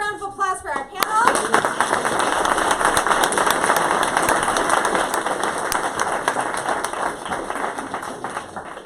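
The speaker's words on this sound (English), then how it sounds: "let's have a round of applause for our panel" Audience applause for a District 5 supervisor candidate panel at a San Francisco forum, a brief voice at the start, then loud, dense clapping sustained for the rest of the clip.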